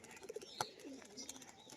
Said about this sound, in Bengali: একটা সাদা পায়রা খেলাচ্ছে দেখুন